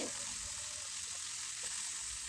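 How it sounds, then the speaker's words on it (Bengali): Marinated boneless chicken pieces, cut small, frying in a pan over medium gas heat, giving a steady, quiet sizzle with no talking. "চিকেনগুলো ভালোভাবে ভেজে নেব"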